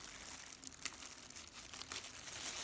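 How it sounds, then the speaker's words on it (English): A knife slices a line through the tough pink skin of a dragon fruit after its top and tail are trimmed, giving a soft, continuous crinkly tearing sound up close, with a few sharper crackles partway through. "Use a knife to cut one line."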